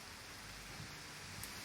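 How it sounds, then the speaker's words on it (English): Heavy rain mixed with hailstones pounds down outside during a stormy spell, a faint, steady hiss of dense impacts with no voices. "It's been pounding with rain and hailstones."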